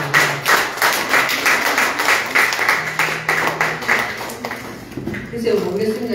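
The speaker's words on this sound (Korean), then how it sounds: "우리 서로 좀 격려하는 의미로 박수를 한번 보내주면 좋겠습니다." A church congregation at a Sunday service in a temporary meeting place gives a round of applause, many hands clapping in a steady patter, with a voice speaking as the clapping fades near the end.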